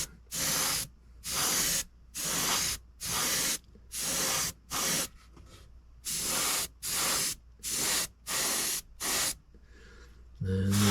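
An airbrush sprays Vallejo model paint thinned with flow improver, or Createx Autoborn sealer, in about ten short, loud hissing bursts of roughly half a second each. The bursts are separated by brief pauses.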